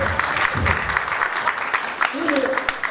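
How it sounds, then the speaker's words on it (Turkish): Studio audience clapping on a Turkish live television broadcast, a continuous crowd patter with a voice breaking in briefly near the end. "Alkışlayın öyle, yanım olmasın."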